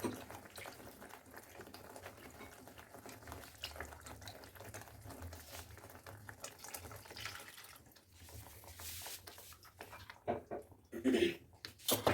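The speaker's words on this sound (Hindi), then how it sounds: "इसमें जो बेसन का पानी बचा हुआ है वो अच्छे से डाल के जार में हम अच्छे से हिला के उसमें डाल देते हैं" Gram flour water is shaken in a jar and poured into a simmering Rajasthani besan gatta curry, a soft continuous liquid sloshing and bubbling, fairly faint.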